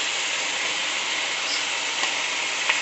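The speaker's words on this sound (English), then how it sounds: "we're gonna saute squash" Squash sautéed in a pan with garlic, onion, tomato, pork and soy sauce gives a constant, even sizzling hiss at close range, with a few faint clicks of stirring.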